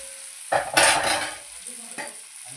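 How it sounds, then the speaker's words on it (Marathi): Stuffed eggplants frying in oil being stirred in a pan, with a steady sizzle and bursts of scraping and clattering as the spoon moves them, close and fairly loud. "मस्त हलवून घ्यायचं वांग असं मस्त हलवून घ्यायचं."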